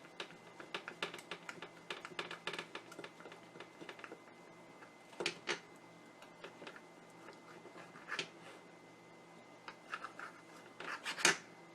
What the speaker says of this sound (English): Then I'm going to go about halfway in the middle of that and make another cut.